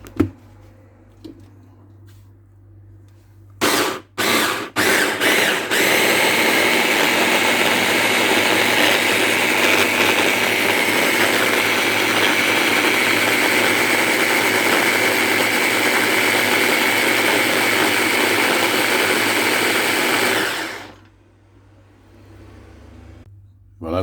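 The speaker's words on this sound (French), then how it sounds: "j'ai coupé l'oignon en émincé et puis je vais maintenant le passer dans le hachoir" Electric food chopper whirring through sliced onion: a few short bursts, then one loud, steady buzzing run of about fifteen seconds, close up, stopping abruptly, with no talk over it.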